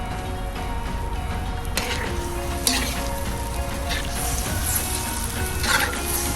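Green rice with cilantro sizzles and is stirred in a kazan, a loud, steady frying crackle with a few scraping stirs throughout, with no talking.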